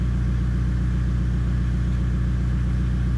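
A VW Golf with an ABS fault driven on a road test, giving a steady, even low engine and road rumble from inside the car, with no talk.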